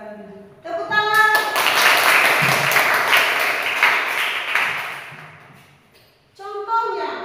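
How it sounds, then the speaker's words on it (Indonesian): A classroom full of children bursts into lively applause that lasts about five seconds, then fades out. Talking is heard just before the clapping begins and again after it stops. "Tepuk tangan."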